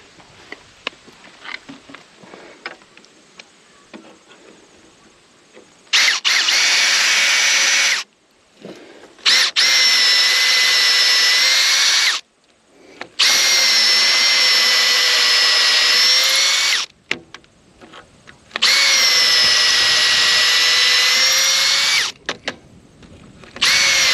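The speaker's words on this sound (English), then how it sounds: "So I've managed to find just a small diameter drill, so I'll use that to create a starter hole." A small diameter drill bores a starter hole into a dense log for a garden table build, running in four loud sustained whirring bursts separated by short pauses, close up with no talk.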